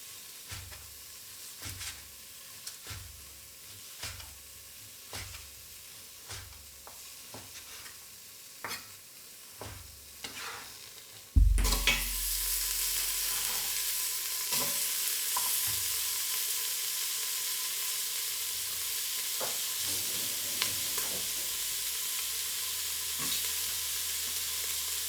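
Bacon frying in a pan, all of it put in at once: regular scraping stirs at first, then a loud burst of sizzling as the bacon hits the pan, settling into a steady hiss with occasional stirring clatter.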